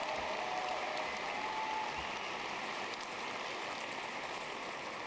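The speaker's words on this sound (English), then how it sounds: "How about a round of applause for those students?" Steady, dense applause from a large graduation audience honoring graduating students at Waterloo West, a continuous hiss-like wash of clapping that holds evenly and eases slightly near the end.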